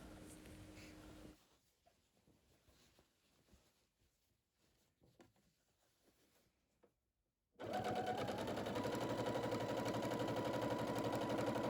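A sewing machine stitches tote bag fabric in short, halting bursts that stop and start as the cloth is shifted, then breaks into a loud, fast, steady run of stitching.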